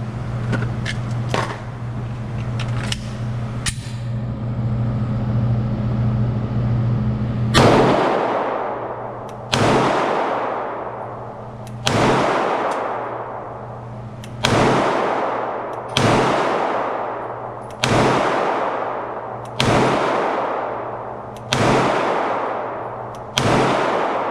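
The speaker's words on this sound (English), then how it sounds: "let's see how it handles some hot critical duty ammunition" Smith and Wesson SD9VE 9mm pistol firing hot Critical Duty defensive rounds outdoors, nine loud, sharp reports spaced about two seconds apart, each trailing a ringing decay, following a low steady engine-like hum.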